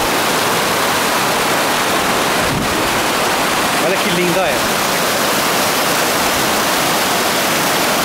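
The Cachoeira do Rio Preto waterfall in São Sebastião da Vargem Alegre, Minas Gerais, splashes water with a loud, constant roar close by, while a voice briefly speaks over it.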